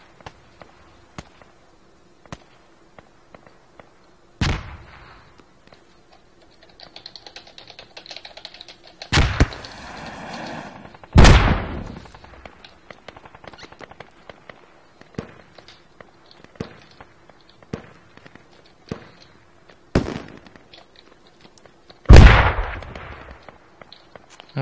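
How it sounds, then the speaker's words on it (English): Gunfire and explosions in the military shooter Squad, on the Kohat Toi river valley map: scattered sharp cracks and several louder bangs spread unevenly over the stretch, some near and some distant, with no voices. "I'm taking fire."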